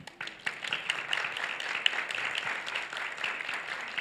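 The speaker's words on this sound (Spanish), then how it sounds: "Vamos a dar un aplauso." Applause from the audience at a book presentation during the Guadalajara book fair in 2019, a fairly soft, even patter of many hands that keeps going for several seconds with no talking over it.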